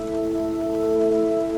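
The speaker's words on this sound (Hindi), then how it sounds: "अरे ये क्या, अचानक बारिश आ गई।" Rain falls in a village in a steady, even hiss with a sustained tonal hum layered over it, unbroken for the whole moment and without voices.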